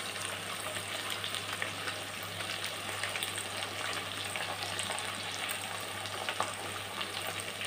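Sliced potatoes, onion and green chillies frying in a pan of oil while cooking a sweet corn and meal maker biryani; a steady, close broadband sizzle continues throughout with no speech.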